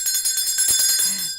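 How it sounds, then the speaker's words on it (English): A small hand bell rung by a live-stream host, a bright ringing with sustained high overtones lasting through the moment, close and fairly loud. "Where's my bell?"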